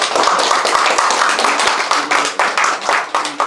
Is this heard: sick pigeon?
no